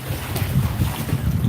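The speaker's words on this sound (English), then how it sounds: "Big waves alert." Big waves slosh and surge around a fishing dock on a windy day, with steady wind noise buffeting the microphone and rhythmic water movement close by, no talk.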